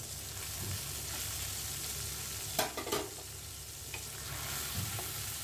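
Salt, chili, turmeric and coriander powders, ginger-garlic paste and chopped tomato fry in a clay pan, making a continuous soft sizzle broken by a couple of sharp scraping stirs midway and a few lighter knocks later.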